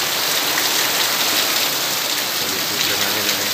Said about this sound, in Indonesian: Hujan angin ini kuat sekali sih.